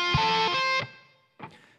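An electric guitar plays a short phrase from the bridge of a song with distortion, sounding a sustained chord that cuts off, then a quieter brief stab, all near and without talk.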